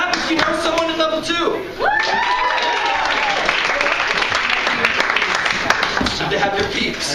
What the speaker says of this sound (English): Clap if you know someone in level 2.